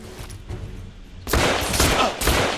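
Gunfire in the video game The Order: 1886 bursts in loud and sustained after a quieter stretch, a dense fusillade with several sharp reports layered over continuous crackle.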